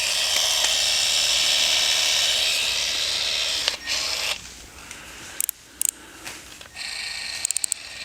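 A Milwaukee M18 cordless 20-ounce caulk gun motor runs at its fastest speed, a steady high-pitched electric whine held close for several seconds, then dropping and stuttering with brief clicks and pauses.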